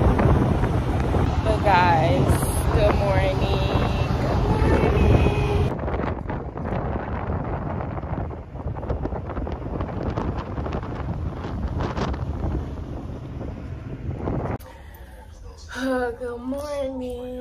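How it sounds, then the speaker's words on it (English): Strong wind buffets the microphone with a steady roaring rush, someone talks over it, then the gusts cut out and quieter speech follows. "It's windy."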